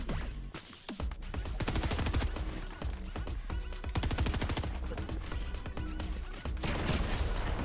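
Rapid submachine gun fire in a ranked online shooter game, dense bursts of shots running almost continuously and loud throughout, with brief dips between volleys.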